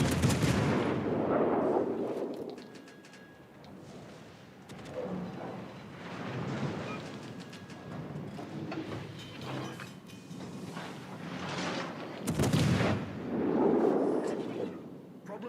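Heavy gunfire in a naval video game, several loud broadband blasts with booming low end, the strongest near the middle and end, separated by rumbling mechanical background noise.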